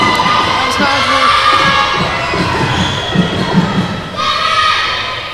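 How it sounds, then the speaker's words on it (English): Crowd at an Isle of Man vs Wales netball match cheering and shouting, with children's voices and thumping ball bounces, steady and fairly loud throughout. "She gets a cheer from the crowd."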